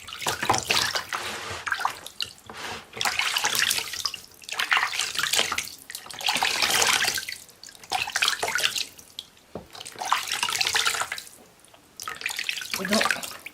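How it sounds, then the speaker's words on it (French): Running tap water splashes steadily as bare feet are rinsed under it, coming in repeated bursts with short pauses between them, fairly close and clear. "Vous allez rincer vos pieds simplement avec un gel neutre."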